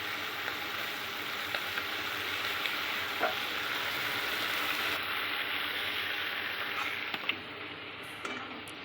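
Prawns fry in a kadai with a steady, close, hissing sizzle, and small ticks and pops break through now and then. No one speaks.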